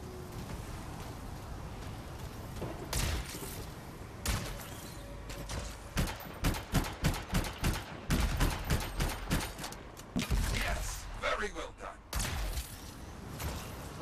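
Containers blow up in the video game Anthem with a burst of rapid, loud bangs and crackling detonations that come in quick clusters. A heavier blast follows, set over the game's background noise.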